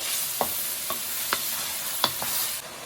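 Minced keema with green bell pepper cooking in a pan over a low flame, giving a steady soft sizzle with a few sharp taps of a stirring spoon spaced through it, close and with no talking.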